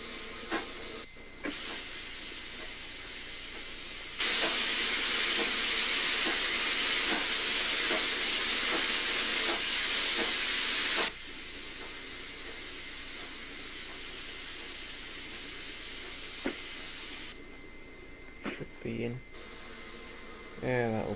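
Steam hisses loudly in long bursts over a low chugging rumble, with occasional clanks between blasts, from a rebuilt Merchant Navy class steam locomotive in Train Simulator 2020.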